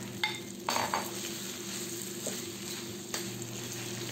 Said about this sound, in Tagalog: ilagay na natin ang prinito natin kanina na hotdog